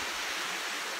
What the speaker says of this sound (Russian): Но цель нашего визита был водопад.